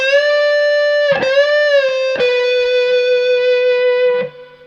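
A distorted electric guitar plays a sustained bluesy lead phrase, with long held notes, bends and a few sharp pick attacks, then fades at the end.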